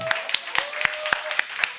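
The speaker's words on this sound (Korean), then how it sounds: "일단 영광의 박수 올려드리고 갑시다" A church congregation gives a short round of applause, with a handful of distinct, evenly spaced claps ringing out over a faint sustained tone and light background murmur.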